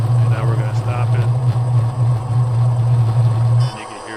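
A model diesel locomotive's sound decoder revs down: a deep diesel engine drone runs steadily, then winds down and fades out near the end, leaving quieter background.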